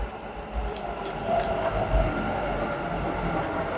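A Bengaluru metro train pulls into the station with a steady, loud rolling rumble and hiss that holds for a few seconds, with a few faint metallic clicks high above it.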